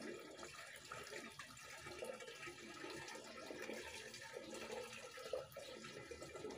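Jakaba liquid (homemade fermented starter) being poured into a container, a faint steady trickle and splash of water in a quiet setting with no talk.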